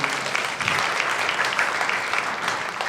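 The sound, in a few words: congregation applause thanking the pastor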